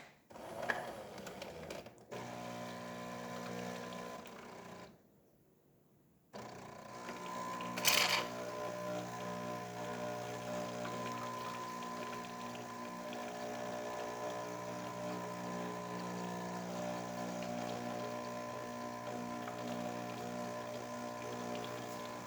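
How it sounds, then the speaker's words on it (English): A Jura J6 espresso machine, just serviced and tuned up, brews a cup of coffee with a steady mechanical hum and buzzing pump drone, briefly broken by a quiet pause and a sharp hiss before the drone resumes. "Let's go ahead and test it and make a cup of coffee."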